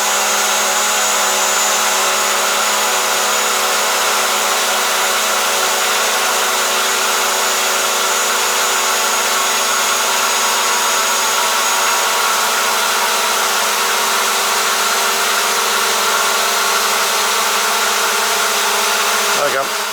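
The motors of a Hubsan Zino drone run steadily at reduced throttle, a loud, even whine with a smooth airy hum that holds constant throughout.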